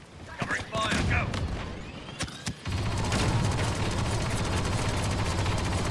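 Sustained covering gunfire in a Star Wars Battlefront 2 battle with a Tom Clancy's Resurgence mod, dense overlapping blaster shots and rumbling explosions after a few isolated bursts, with a voice speaking over the opening.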